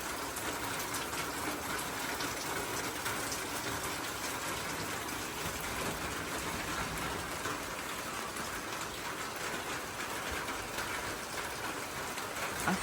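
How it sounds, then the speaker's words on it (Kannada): Light morning rain falls steadily, a soft continuous patter on surfaces close by with no voices, holding an even hiss from start to finish. "ಅಷ್ಟು ಜೋರು ಮಳೆ ಏನಲ್ಲ, ಬಟ್ ಬರ್ತಾ ಇದೆ."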